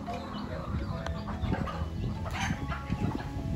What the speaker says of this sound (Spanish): les acabo de dar comida a las gallinas y los gallos y los pollitos